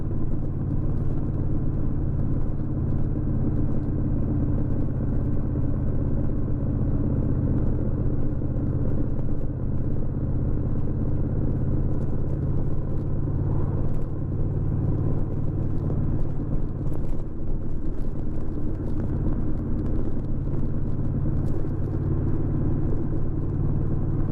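A Honda 1100 DCT motorcycle engine hums steadily at low road speed while riding, a continuous close rumble with wind noise and no talking.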